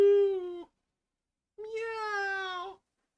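Two clear, high meows from a small cat, a short one followed by a longer drawn-out cry after a brief pause.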